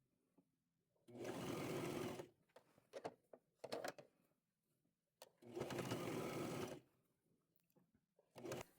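A sewing machine runs a quarter-inch seam around an old top being made into a tunic, two sustained bursts of rapid whirring stitching separated by quiet pauses with small handling clicks and taps.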